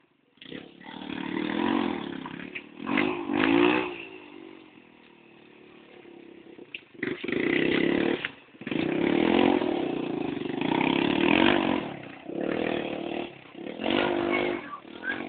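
Dirt bike motorcycle on an off-road trail, its engine revving up and accelerating in repeated loud surges, with brief easing-off gaps between bursts, close to the listener.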